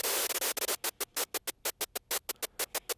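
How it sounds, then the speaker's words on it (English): Rapid rhythmic chopping of a sound on a RANE FOUR DJ controller's Choppa effect, cut into evenly spaced stuttering bursts like a scratch-style gate, about a dozen sharp pulses with silent gaps. "here is the Choppa. And so it's like almost like a scratch style gate effect"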